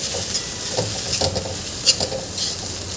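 Sabudana (sago) khichdi being stirred in a pan after lemon juice goes in, giving soft repeated scraping strokes over a steady sizzle, close and fairly loud with no talk.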